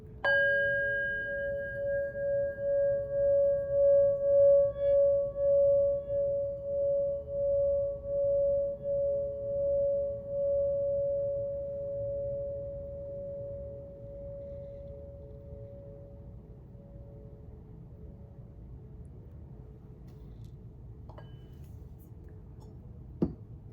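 A singing bowl hums with a steady, pulsing ring that swells and wavers, then gradually fades into near silence, ending with a faint tap.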